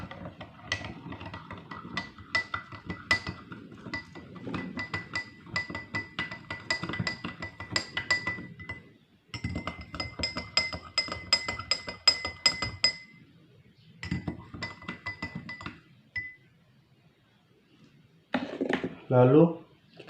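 A spoon clinks against a glass while salt water is stirred, in bursts of rapid close tinkling separated by short pauses.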